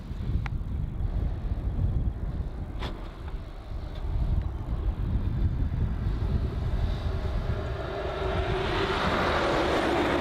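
A Qantas Airbus A330 taking off from runway 27 at Melbourne Airport: a loud, steady jet engine roar fills the whole stretch, swelling brighter toward the end, with some wind buffeting.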